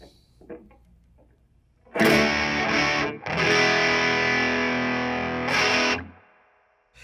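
Epiphone Les Paul Modern electric guitar on the neck pickup strummed with distorted chords, two sustained strums ringing out with a brief break between, fairly loud and alone.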